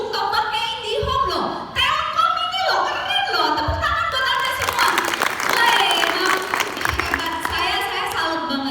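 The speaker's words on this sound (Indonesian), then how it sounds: "Tepuk tangan buat Anda semua." Applause and clapping from an audience at a Telkom IndiHome staff event, a dense wash of hands clapping that builds and stays steady, with a voice speaking over it at the start.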